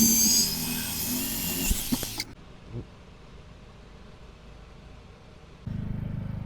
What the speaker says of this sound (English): drop that thing down a 1/2 inch and drill through to the outside